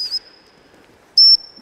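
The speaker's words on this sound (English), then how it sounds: "A recall whistle is a series of pips." A gundog recall whistle sounds two short, piercing high pips about a second apart, loud and close, with near silence between them and no talking.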